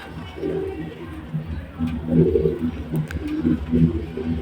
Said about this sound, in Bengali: ভালো জাতের পায়রা। এটাই দুটোই বাচ্চা পায়রা